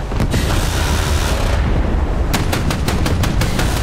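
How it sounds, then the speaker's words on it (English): Loud rapid gunfire from air-defence guns engaging a Shahed 136 drone swarm, heard as a dense roar followed by a quick run of distinct sharp shots. "Man, I love those guns."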